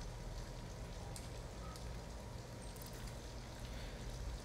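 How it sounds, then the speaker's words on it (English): Rain pours steadily in the video game Detroit: Become Human as a dense, even hiss with occasional faint drip ticks. It is quiet and continuous throughout, with no voices. "At least we'd be out of the rain."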